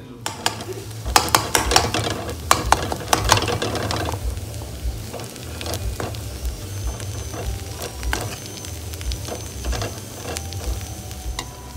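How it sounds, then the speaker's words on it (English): Banana flower (vazhaippoo) sautéing in a pan on the stove, with a soft continuous sizzle, a cluster of sharp utensil clinks and stirring knocks early on, then quieter scattered taps. "Mix it well and saute for some time"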